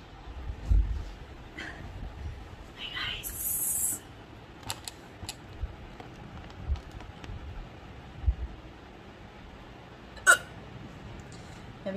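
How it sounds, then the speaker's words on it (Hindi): A woman hiccups several times after drinking water, short sharp bursts scattered irregularly over quiet indoor background, with one louder catch near the end. "मैंने जस्ट पानी पिया और ज़्यादा हिचकी आने लगी"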